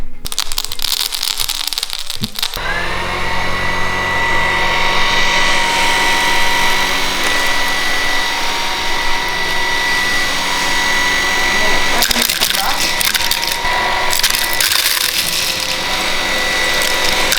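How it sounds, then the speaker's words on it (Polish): A Xiaomi Dreame T20 cordless vacuum cleaner runs with a steady loud whine and hum while sucking up hard pistachio shells, with rattling debris at the start and again toward the end. "Zaczynamy od orzeszków, a właściwie od łupin pistacji i zobaczymy, e, czy odkurzacz sobie z tym poradzi"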